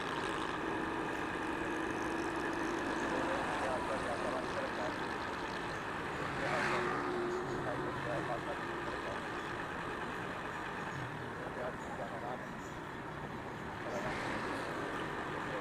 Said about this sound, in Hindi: ट्रैफिक अपनी अपनी मंजिलों की तरफ रवां दवां है।